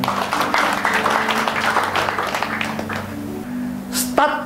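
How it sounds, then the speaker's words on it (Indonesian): Congregation applause during a Sunday church service, a dense wash of clapping from the worshippers over a sustained organ or keyboard tone, fading near the end as a brief voice cuts in. "Berikan tepuk tangan"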